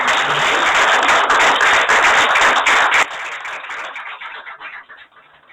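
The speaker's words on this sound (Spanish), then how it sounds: "Así que un aplauso para ellos." Audience claps at a presentation on a new constitutional text, a full burst of applause for about three seconds that then thins into scattered claps and fades away.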